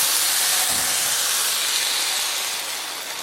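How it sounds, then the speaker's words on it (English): Enoki mushrooms searing in hot oil, producing a steady, loud, hissing sizzle that holds evenly throughout and fades slightly toward the end, with a brief low rumble near the start. "Let your mushrooms sear for like 30 seconds to medium low."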